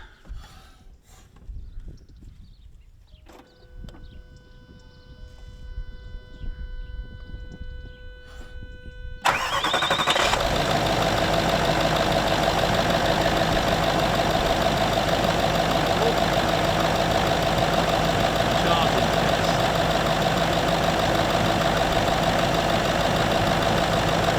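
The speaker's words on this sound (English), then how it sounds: "Cranking test. Right, can you start it up?" A car engine cranks briefly, then catches and settles into a loud, steady idle that continues without break.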